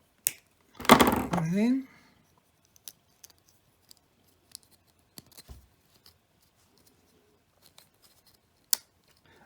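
Scissors snipping a small piece off part of an Otto DIY robot kit, with sparse, faint, sharp clicks spread over several seconds after a short spoken phrase, close but quiet in an otherwise still room.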